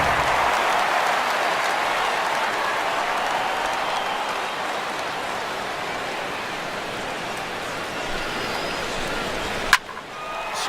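A stadium crowd in the baseball video game MLB The Show 16 gives an ovation during a Dodgers versus Padres game, a broad, steady roar of applause that slowly fades, ending in a sharp click.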